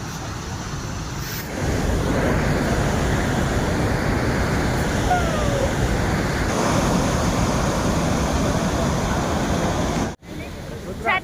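Powerful rushing water at a dangerous, fast-flowing waterfall in Bastar, Chhattisgarh, a steady loud broadband roar with voices talking faintly over it, cutting out abruptly near the end.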